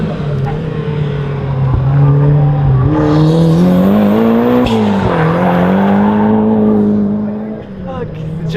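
Race cars at the start of a race roar with loud, sustained engine drone that rises and shifts in pitch as they accelerate close by, with crowd and people talking underneath.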